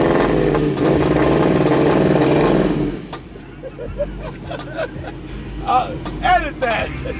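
A street race car does a burnout to warm its tires. A loud, dense engine roar fills the first three seconds and then drops away, and crowd voices and chatter carry on beneath the quieter idle afterward.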